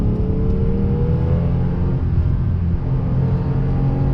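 Lexus RC F accelerating in second gear, with a loud, steady engine drone and road roar heard from inside the cabin, no talking.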